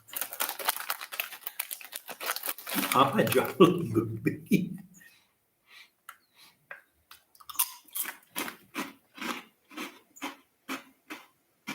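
A crunchy snack is chewed close to the microphone in a run of regular, evenly spaced crunching bites that follow a stretch of talking.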